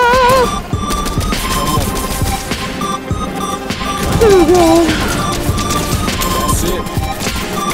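Gunfire in the video game Fortnite, dense and loud: rapid shots and crashing impacts pile up continuously under game music and effects, with a brief shout of voices in the mix.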